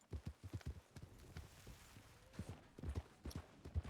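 Horse hooves clip-clop at a canter in the Red Dead Western video game, a quick uneven rhythm of close, punchy hoofbeats repeating throughout with a brief quieter stretch in the middle.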